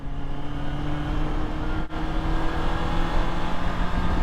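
Honda CBR650R E-Clutch motorcycle riding along with a steady, loud engine drone and wind roar, dipping briefly for a quick clutchless downshift before the engine note carries on.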